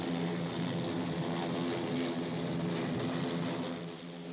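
An AH-56 Cheyenne compound rigid-rotor helicopter flies past with a loud, steady roar of rotor and engine droning continuously, easing slightly at the end.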